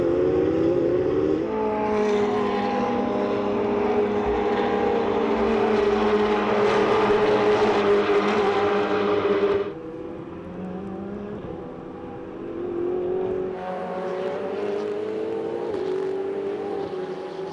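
Ferrari Challenge race cars, Trofeo Pirelli, accelerate hard out of turn 20 at Circuit of the Americas, loud engine roar rising through the gears, dropping briefly mid-clip, then another car climbing in again.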